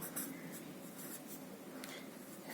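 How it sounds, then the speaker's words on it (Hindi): Soft, steady marker strokes on a board as a chemistry example equation is written out, quiet scratching in short repeated bursts with low room hum and no talking. "एक एग्जाम्पल लिखता हूं मैं आपके सामने"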